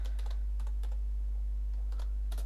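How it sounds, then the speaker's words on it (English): Computer keyboard typing in scattered quick bursts of clicking keys, close and clear over a low steady hum, with no talking. "now you're gonna want to type your message"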